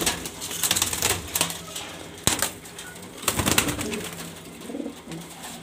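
Grizzle breeder pigeons coo in soft, rolling low phrases close by, with occasional sharp taps and brief wing flutters, and no voice over them.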